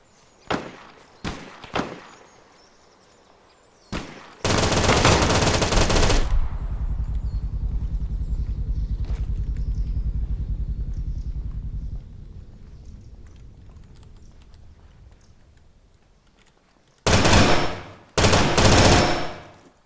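Sniper rifle fire in an island battle: several sharp single cracks ring out, then a long, loud roar of sustained noise, followed by a few heavy bursts of gunfire near the end.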